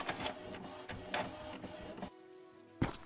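Office printer running orders in Packing House, whirring and clicking through several pulsed feed strokes, then a quieter mechanical hum and a sharp final clack.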